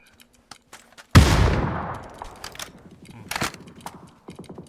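In PUBG gameplay, a loud grenade explosion bursts close by and rumbles away, surrounded by scattered gunshots and sharp clicks before and after.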